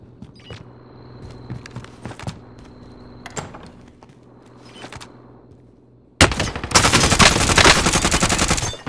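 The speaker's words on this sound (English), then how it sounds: "What is that shooting?" Gunfire in a video game: scattered sharp shots and clicks over a low hum, then a sudden dense burst of rapid automatic fire that stays loud and continuous to the end, with no voices.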